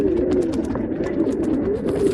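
Pigeons at a Bangalore breeder's loft coo steadily, with soft throaty rolling calls repeating close by and a few rustles, and no voices.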